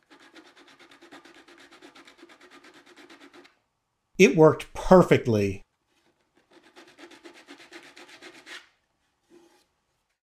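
A stiff strip cut from a sanding belt rubs by hand along a wooden runner, a steady rasping stroke rhythm at close range, pausing while a person speaks, then resuming for a few more seconds.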